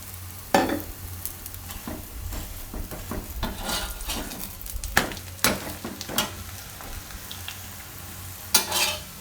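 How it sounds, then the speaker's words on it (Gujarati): Cabbage and fenugreek thepla roasting on both sides on a hot griddle, a steady low sizzle broken by sharp spatula scrapes and taps against the pan, with a louder clatter near the end. "તો બે બાજુ શેકી લેવું આપણે."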